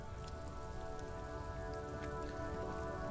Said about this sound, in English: Now it's raining too.